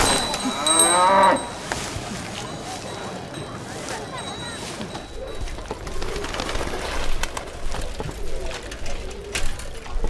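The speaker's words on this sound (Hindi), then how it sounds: "गुलाब बहन, हमारे मोहल्ले में इंसान कम और भैंसें ज्यादा रहती हैं" Buffalo lowing in a crowded residential neighbourhood, one loud drawn-out moo near the start, followed by a busy wash of ambient noise and faint background chatter.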